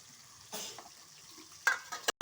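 Ginger garlic paste frying in a pan at home during Bengali cooking, with bursts of sizzling and a few stirring scrapes and utensil clinks, close and moderately loud, no talk.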